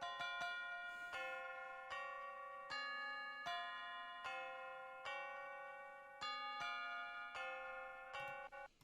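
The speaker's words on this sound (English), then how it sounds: "And then you've also got I think more bells. The higher pitched bells." Bright, high-pitched bells in a rap song ring one after another in a slow, steady sequence, each strike ringing out and decaying before the next.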